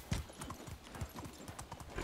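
Rhythmic hoofbeats of a horse galloping in the medieval game Medieval Dynasty, loud and close, with steady clip-clop thuds repeating for two seconds and no talking.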